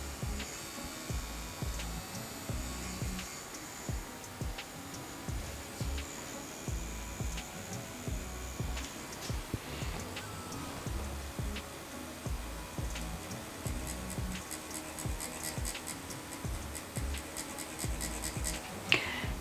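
A Dragonhawk Mast P10 permanent makeup machine runs with its needle set to 4 mm protrusion, giving a steady close mechanical buzz with faint rapid ticking throughout.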